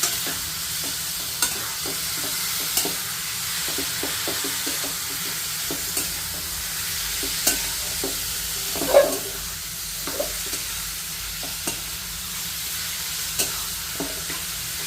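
Handvo batter of bottle gourd mixed with buttermilk is stirred with scrapes and soft knocks of a spoon at a steady pace, a few louder taps standing out over a faint hiss.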